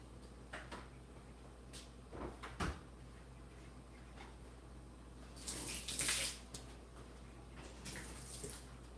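Water splashes and sloshes as a bird cage is scrubbed with dish detergent in a garage, with scattered knocks and clatters and bursts of running water against a quiet background.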